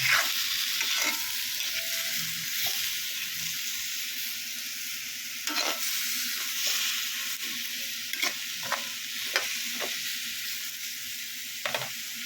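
Food is stirred in a cooking pan over a steady sizzle, with repeated scraping and clinking strokes of the utensil against the pan spaced across the clip, close and unaccompanied by talk.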